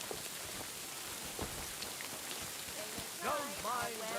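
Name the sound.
rain in video game Kingdom Come Deliverance II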